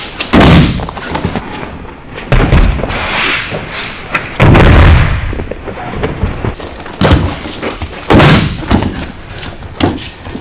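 Judo double-step tai-otoshi throws landing on the mat, a series of heavy, booming thuds spaced a second or two apart, loud and close.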